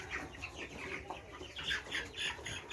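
A 24-day-old broiler chicken clucks and squawks in short, repeated bursts as it is picked up by hand, close and fairly loud over a low background hum.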